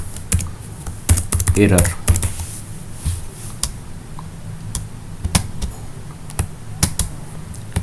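Someone types on a computer keyboard, with scattered clicky keystrokes and a brief quick run of keys, while someone talks over part of it.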